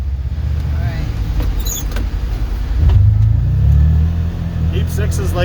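A six-wheel drive vehicle with a cab grinds uphill through deep snow in a blizzard, its engine a steady close low rumble that swells louder midway, with people talking over it.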